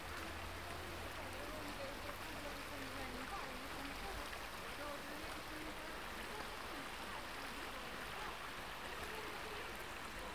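Small waterfall on the Barbaña river stream, a constant, close rushing and splashing of water that stays steady throughout, with no pauses or changes in intensity.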